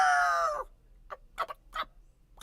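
A rooster gives a short, loud crowing call that fades out, followed by a few softer clucks alone.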